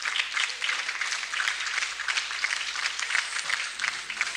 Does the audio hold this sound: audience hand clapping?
yes